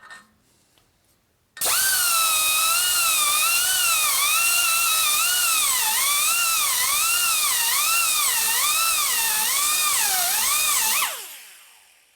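A high-pitched die grinder whines loudly while porting a 1950 Harley-Davidson Panhead cylinder head, starting abruptly, its pitch wavering rhythmically as the tool works the port, then spinning down after about nine seconds, close and alone.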